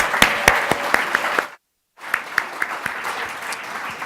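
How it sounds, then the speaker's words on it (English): Audience applause at a Children's Aid Foundation of Canada webcast event, a dense steady clapping with a few sharper claps standing out, cutting to silence briefly midway before resuming just as strongly. "Let's give her one more round of applause"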